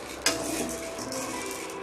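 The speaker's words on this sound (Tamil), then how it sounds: "இப்போ கடலைப்பருப்பை நம்ம வறுத்து எடுத்துக்கலாம்." Chana dal (Bengal gram) roasting in a pan over medium heat, a soft continuous dry rustle with two sharp clinks of a spatula against the pan, one near the start and one at the end.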